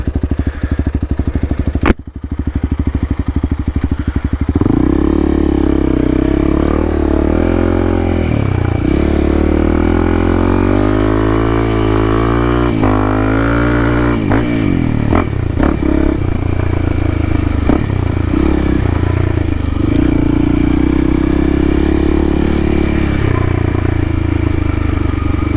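An off-road motorcycle ridden hard on a trail gives a loud, continuous engine roar that rises and falls as the throttle works, with clattering and scraping from the bike throughout and no talk.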